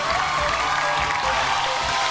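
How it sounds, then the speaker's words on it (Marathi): Applause from a studio audience at a Marathi television game show as women contestants are announced, a dense, steady clapping that fills the whole stretch at close range. "जोरदार टाळ्या होत होते"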